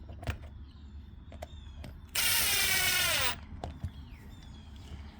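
A power drill drives the last screw into a homemade offroad drag tire for a Baja 5B RC car, one steady loud whirring burst of about a second amid quiet workshop handling clicks.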